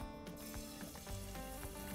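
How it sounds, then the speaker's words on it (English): Duck breast sears in a hot pan with a steady, crackling sizzle and scattered pops, heard close up and on its own, with no talking. "It's the sound you want when you're searing."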